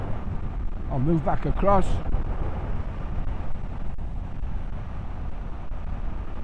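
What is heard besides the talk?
Honda CL500 Scrambler motorcycle riding at 70 mph, wind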